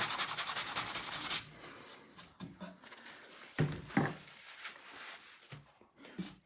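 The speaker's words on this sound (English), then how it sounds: "you can sand this down where you filled your other holes in" Sanding furniture over old filled hardware holes, a steady dense rubbing for the first second and a half, then scattered short scrapes and knocks of varying loudness, close by.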